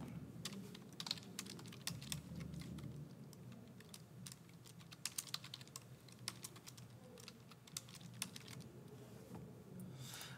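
Quiet, steady typing on a computer keyboard during a precalculus lesson: rapid, soft key clicks running throughout, fairly close, with no voice.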